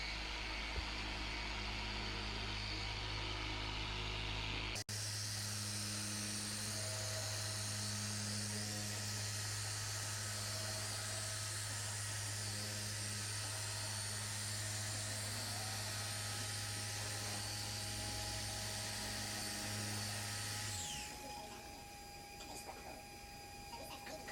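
A car polisher corrects paint on a Mini using a 3D One pad in a crisscross pattern, a steady loud motor whine running for about twenty seconds before winding down near the end.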